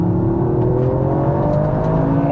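Toyota GR Yaris turbo engine pulling hard under acceleration, a steady loud drone with rising harmonics as revs climb, heard from inside the car with no talk.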